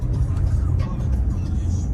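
A car is driven along, heard from inside as a steady low engine rumble and road noise, with faint sounds above it.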